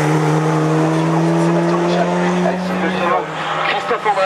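Class A1 race car launching at the 2022 Turckheim hill climb; a loud, sustained engine note holds steady and then breaks with a shift as the car pulls away, under a commentator's voice.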